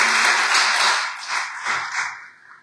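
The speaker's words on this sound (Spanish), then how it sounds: "Denle un aplauso al Señor" A church audience claps loudly for about two seconds, a crisp burst of applause at a Spanish-language sermon that thins out and fades near the end.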